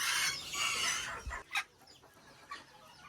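Mini Garnisé bantam chickens cluck and squawk in a pen, with a burst of close calls followed by a few short clucks against a quiet barnyard background.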